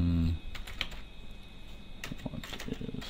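Fingers typing a discussion message on a computer keyboard, a scatter of light quick clicks in uneven bursts, fairly close, over a faint background hum.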